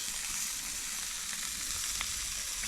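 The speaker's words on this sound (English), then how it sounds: "burgers are sizzling away" Burgers sizzle steadily in a hot pan, a continuous close crackle and hiss with no voices.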